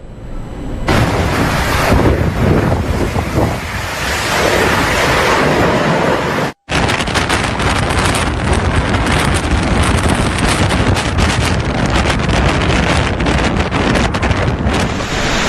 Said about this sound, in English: a powerful cyclone has hit the coastal lines of Bangladesh and Myanmar